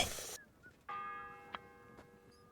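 One church bell strike rings out in Kingdom Come Deliverance 2, a clear metallic toll with a long, steady humming decay, following a short burst of noise.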